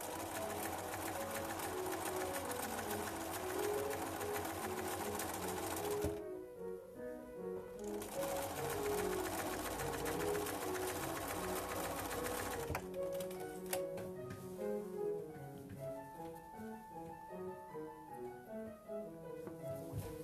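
A sewing machine stitches a quilt block in steady rapid runs, its mechanical clatter close and even, pausing briefly partway through before resuming at a similar pace.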